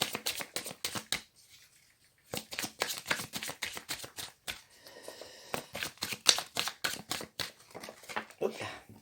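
Tarot cards being shuffled in quick riffling bursts, close and crisp, with a short pause and then more rapid rounds of shuffling, faint speech in the background.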